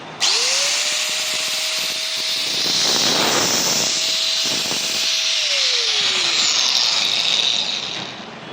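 A Bosch GWS 800 4-inch angle grinder is switched on and runs with a loud, steady high-pitched whine and a bright hiss. It winds down near the end, with no talking.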